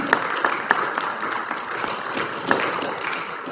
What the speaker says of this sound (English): And just keep clapping until that door opens.